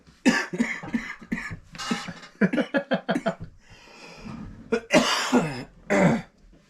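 Several harsh coughs and throat-clearing bursts, close and fairly loud, in irregular clusters with brief pauses between them.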